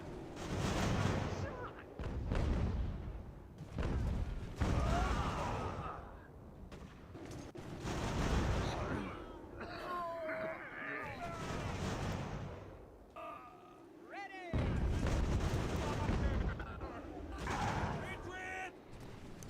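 Canister artillery fire in the American Revolution strategy game Ultimate General, a string of heavy booms and rattling volleys in bursts, with someone talking over much of the battle noise.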